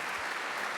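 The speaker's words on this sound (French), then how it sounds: "Je pense qu'on peut aussi applaudir le festival Sérimania, tout simplement." Dense, steady applause from an audience at the closing ceremony of the Séries Mania television festival, a continuous wash of clapping filling the short moment without pauses.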